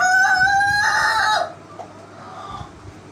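Rooster crowing loudly and close for about a second and a half, a long drawn call, then quieter clucking from domestic village chickens in a backyard breeding flock.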